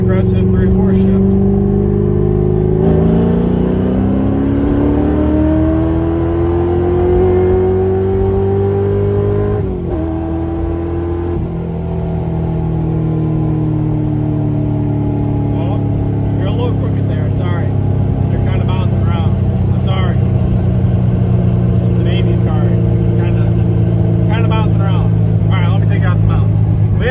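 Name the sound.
car shifting gears with TREMEC TKX transmission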